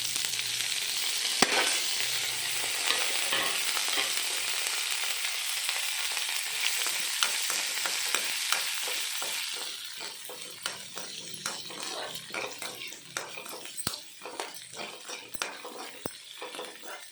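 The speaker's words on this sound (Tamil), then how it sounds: "இது வந்து ஒரு பச்சை மிளகாய் அரிஞ்சிருக்கேன், வெங்காயம் ஒன்று அரிஞ்சிருக்கேன், கருவேப்பிலை இதை சேர்த்துக்கணும்." Chopped green chili, onion and curry leaves fry in a pan for a village cabbage curry, first a dense steady sizzle, then quieter frying with repeated clinks and scrapes of a utensil stirring against the pan.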